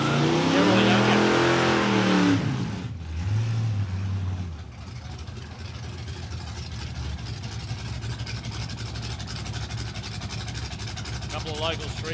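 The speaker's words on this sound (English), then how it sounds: "A couple of local street class races." Street class cars drag racing at Palmyra Raceway, among them a BA Falcon, with engines roaring loudly and revving hard at first, then a steady, more distant drone of cars running down the strip.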